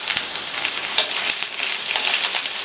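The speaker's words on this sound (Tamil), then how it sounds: "பீன்ஸை சேர்த்துட்டு இந்த பீன்ஸையுமே எண்ணெயிலேயே 2லேருந்து 3 நிமிஷத்துக்கு நல்லா வதக்கிக்கங்க" Cut green beans sauté in hot oil alongside half-cooked potatoes for a masala, giving a close, continuous crackling sizzle with faint stirring and no voices.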